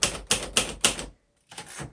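Keys of a 1953 Royal Quiet DeLuxe manual vintage typewriter strike in four sharp, evenly spaced clacks, then a short pause and a softer burst of keystrokes, close and clear with no talking.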